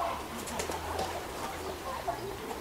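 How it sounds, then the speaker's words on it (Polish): Pigeons or doves coo softly in a park mini zoo, low murmuring calls repeating under outdoor ambience, with faint voices in the background. "co to za ptaki są?"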